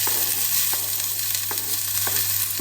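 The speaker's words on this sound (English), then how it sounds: "So now that it's hot, we're going to add the chopped onion." Chopped onion sizzles steadily in hot olive oil in a pan, a continuous close hiss broken by a few soft periodic stirring scrapes; no talking.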